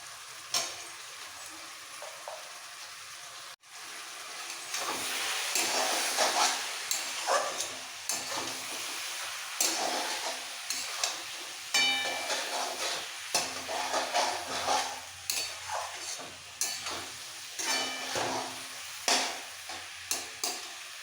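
Cabbage frying with onion and spice paste in a pan, stirred by hand: a soft sizzle runs throughout while repeated scraping strokes and spoon taps come in an irregular rhythm, with no voices.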